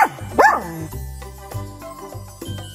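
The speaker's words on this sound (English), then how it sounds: "Dachshund." A dachshund gives a couple of sharp, high yipping barks up close, set against a repeating musical backing.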